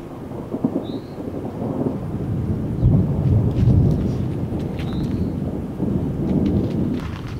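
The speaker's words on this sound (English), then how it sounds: "the dog days of summer are going to start with a epic thunderstorm" A summer thunderstorm rolls overhead, with low, rumbling thunder swelling and fading across several seconds under a soft patter of rain and light rustling, and no voices.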